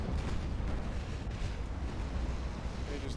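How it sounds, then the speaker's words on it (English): A torpedo strikes a warship in the naval battle game Ultimate Admiral Dreadnoughts, giving a loud, sustained rumbling blast with dense low roar and a steady wash of noise throughout. "We just ate a torpedo."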